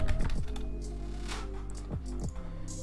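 Fast typing on a computer keyboard: a steady, close run of dense key clicks lasting the whole stretch, with no voice over it.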